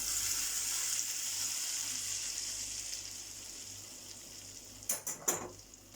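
Vegetables sauté in a pan for a pasta dish, giving a steady bright hiss that slowly fades, then a few short clinks of a utensil stirring near the end.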